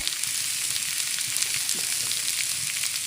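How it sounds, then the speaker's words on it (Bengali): Potatoes and spices sizzle in a hot pan, a constant close frying hiss with faint scraping as they are stirred together. "আমি একটু ভালো করে মিশিয়ে নিচ্ছি মশলার সঙ্গে।"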